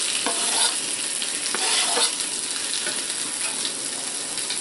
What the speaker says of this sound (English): so now we've got our garlic cooking